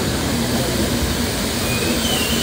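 Durgiana Express train departing Kolkata on the route toward Dhanbad, a steady, loud rumble of rolling stock with a faint wheel squeal, continuous throughout and heard from on board or close by.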